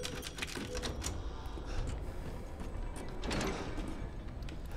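A typewriter in the horror video game Resident Evil Village gives off a rapid, uneven clatter of mechanical clicks and clacks. It sits over a dense, steady ambient background throughout, with no talking.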